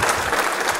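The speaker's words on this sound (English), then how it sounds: "I think he deserves a round of applause because he does it with a heart and a half" At a book launch in Waterford, a burst of audience clapping rises briefly and fairly loudly in a dense patter, then cuts off after less than a second.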